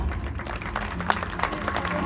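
An audience at an Asterix-themed live show applauds and cheers, a dense crowd roar with scattered claps and voices mixed into the continuous noise.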